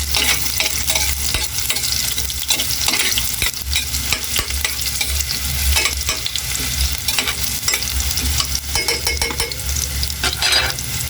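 Onion and ginger sautéing in a pan for a beef offal and skin pinapaitan, a loud, constant close-up sizzle with stirring and no talk.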